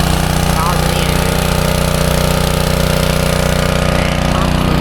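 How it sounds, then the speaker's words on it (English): A small engine drives a water pump on a water wagon, pushing water through a hose into a tank; a loud, steady, close-up droning hum runs unbroken throughout. "The hose runs up here to this pump, powers the engine"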